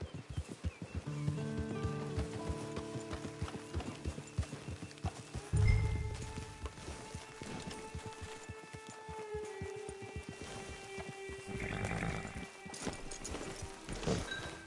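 Horse hooves clip-clopping in the video game Red Dead Redemption 2, a steady walking rhythm heard close and moderately loud, with an occasional whinny and low background music throughout.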